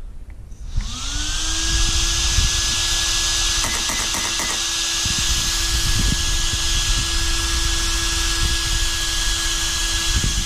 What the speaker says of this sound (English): The fan is decent.